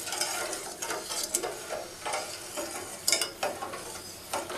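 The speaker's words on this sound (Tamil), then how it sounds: "சுகர் நல்லா மெல்ட் ஆகட்டும்." Melting sugar scrapes and sizzles in a pan under repeated stirring, giving irregular close scraping strokes and soft sizzle that keep going with no talk.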